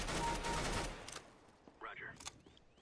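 Bursts of automatic gunfire in the video game CS:GO, a short rapid burst up front followed by a few sparse shots and other game effects at moderate loudness.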